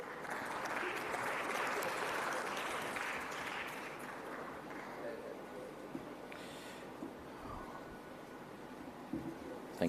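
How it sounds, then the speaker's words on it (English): Audience at a youth ICT conference in Tanzania applauding, a sustained wash of clapping that swells early then gradually thins out, moderately distant in a large hall. "Another round of applause to them."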